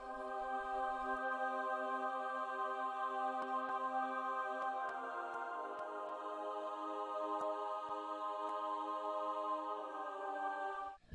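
Orchestral choir chords played on keys, held as one long sustained, layered pad that stays steady and quiet throughout with a faint shift partway through, no voices speaking.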